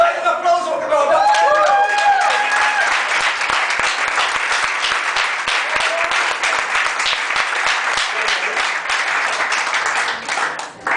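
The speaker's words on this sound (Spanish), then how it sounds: "Dale un aplauso porque me lo da" A church congregation breaks into sustained applause, dense, loud clapping lasting the whole stretch, with a few cheering voices rising over it at the start.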